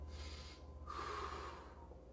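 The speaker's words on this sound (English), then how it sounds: "Breathe, breathe, breathe." A deep breath drawn in and let out during a sideways stretching exercise in an online karate class, a single audible inhale-exhale heard alone over a low steady hum.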